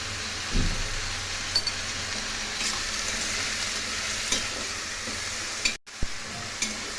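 Bitter gourd curry with salt and turmeric sizzles steadily in a pan while a spoon stirs it, adding scattered scrapes and knocks over the constant frying hiss.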